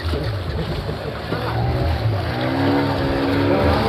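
A boat's motor drones steadily near at hand on the sea, with other boats passing close and water rushing alongside. Broadband engine noise runs loud and continuous throughout, and voices are faintly present under it.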